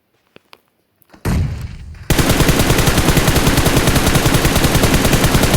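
Uzi submachine gun fire in a video game: a few faint clicks, then a loud sustained burst of rapid automatic shots rattling on steadily, close and dominant.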